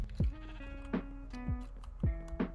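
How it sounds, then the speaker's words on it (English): Sheep bleating in a Minecraft-style video game: five or six short, clipped synthetic bleats repeat at irregular intervals, fairly close and clear over a quiet background. "I killed the baby cyan sheep"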